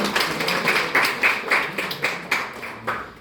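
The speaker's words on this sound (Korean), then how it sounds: "박수 한번 쳐주세요." A few people clapping for a single person at a mentoring talk, a short run of sparse, fairly distinct claps at close range with no talking over them.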